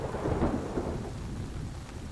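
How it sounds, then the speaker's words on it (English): Steady rain falling with a deep, rolling rumble of thunder in a storm, loud and close, with no voices over it. "An invigorating splash of raindrops cools your face."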